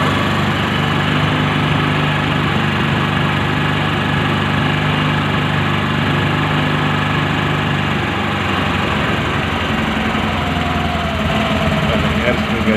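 A motorcycle engine runs steadily and loudly close by while its carburetor air screw is adjusted, a continuous buzzing drone with a slight shift in pitch toward the end and voices talking over it.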